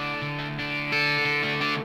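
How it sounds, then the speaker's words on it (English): Electric guitar run through a Zvex Super Duper 2 in 1 pedal set up as a distortion, its two cascaded boosters cranked: a sustained, saturated melodic line of a few held notes with rich buzzy overtones, played alone. "To make this into a distortion pedal, all you have to do is turn down the master volume control and turn up these two cascaded boosters"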